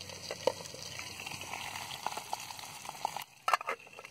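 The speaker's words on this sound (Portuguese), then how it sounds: "Tô terminando de fritar os peixes aqui, ó." Fish frying in a pan beside a river, a steady close sizzle and bubbling with small pops and crackles throughout, briefly dropping before a few sharper spatters near the end.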